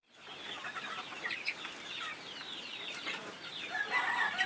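Young game-farm cockerels cluck and chatter steadily after being let out of a multipurpose pen, with busy overlapping bird calls growing slightly louder toward the end, no talking.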